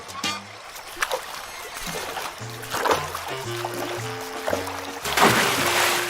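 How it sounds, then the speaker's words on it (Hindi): A cartoon donkey plunges into water with a splash, followed by light trickling and sloshing under a gentle music score, the watery sounds fairly soft and close. "पानी में एक डुबकी लगा लेता हूँ।"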